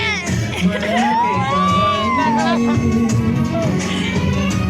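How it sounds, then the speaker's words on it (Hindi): Packed cinema audience cheering and whooping during a movie, a loud mix of shouts and a rising whistle-like cry over dense crowd babble. "पूरा, फुल भीड़ है एकदम"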